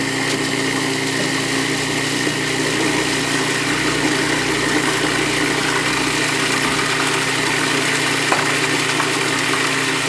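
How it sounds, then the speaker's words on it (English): Food processor motor running steadily while pesto is blended and olive oil is added, a loud continuous whir with a hum that holds level throughout, alone with no talking. "now with the motor running, we're just going to start to"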